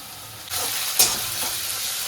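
Greens frying with ginger in a hot pan give a steady, close sizzle that swells at half a second and flares briefly at one second, stirring audible throughout with no talk.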